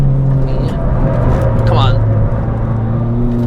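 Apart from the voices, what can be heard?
car engine revving and gear shifting, lapping the Nürburgring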